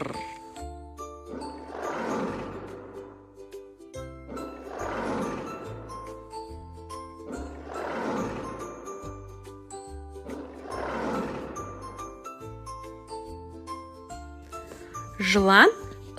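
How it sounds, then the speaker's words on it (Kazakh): A lion roaring four times in evenly spaced, long, rough bursts over a light, tinkling children's melody, with a short chime near the end. "Арыстан ырылдайды."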